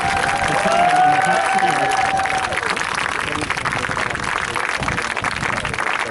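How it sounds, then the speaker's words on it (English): Sustained audience applause and cheering for a marching band at the close of a band camp performance, a dense steady wash of clapping with a few whistles and voices mixed in throughout. "Let's give another round of applause to the band"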